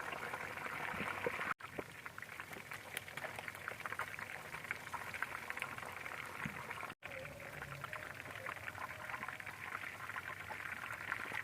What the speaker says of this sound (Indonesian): ayamnya juga aku goreng sampai kuning keemasan juga